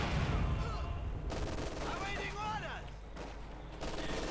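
Company of Heroes 2 battle with dense, continuous machine gun fire and overlapping gunshots, a constant loud barrage under a commentator's voice talking throughout.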